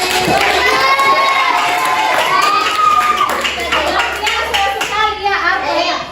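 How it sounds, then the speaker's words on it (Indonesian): A class of schoolchildren claps hands together during a teaching-practice lesson in Indonesia, loud and dense, with excited shouts and voices overlapping the clapping throughout. "tepuk tangan dulu"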